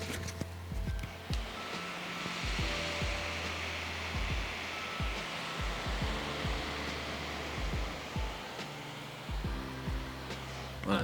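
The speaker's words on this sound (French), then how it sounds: "ça c'était le son des ventilos de cet ordi" Steady broadband whoosh of a Lenovo IdeaPad Flex 5 laptop's cooling fans running at full speed, constant and close, with scattered clicks and low thumps throughout.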